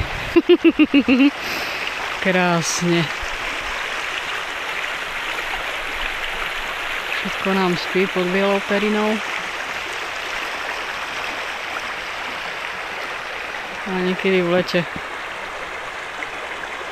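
A small brook runs through a snowy winter landscape, giving a steady, soft gurgling wash throughout while someone talks over it at intervals.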